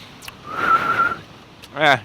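A breathy human whistle holds a wavering tone, then a short rising whistle follows after a pause, close by.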